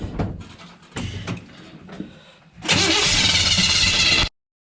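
A restored 1972 Chevrolet C10 pickup with a swapped carburetor cranks in several uneven bursts for about two and a half seconds, then catches and roars loudly into a steady rev before cutting off abruptly.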